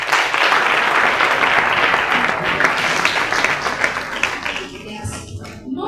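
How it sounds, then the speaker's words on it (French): Warm applause from an audience for instructors, loud sustained clapping that gradually thins near the end as a voice begins to speak. "les braves moniteurs que je vous demande d'applaudir chaleureusement"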